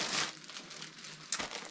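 Packaging around a prayer mat being opened, with steady crinkling and rustling of wrapping throughout and a sharper tear or rip near the end, close and fairly loud, no voices.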